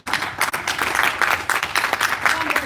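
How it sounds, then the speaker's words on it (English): An audience claps for an award winner during a live-streamed event, a short burst of steady, close applause with a few louder individual claps mixed in. "Round of applause for him."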